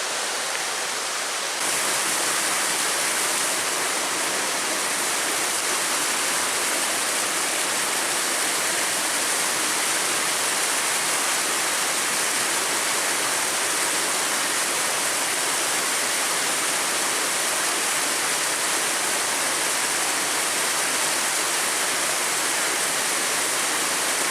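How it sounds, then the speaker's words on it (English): A steady, loud rush of cascading water roars continuously from small waterfalls along a river in Michigan's Porcupine Mountains, with no voices. "the trail runs right along the river with a lot of these little cascading waterfalls"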